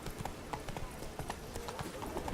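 Horse hooves in The Witcher 3 video game, a quick steady clip-clop rhythm of a trotting horse, close and moderately loud, with speech over it.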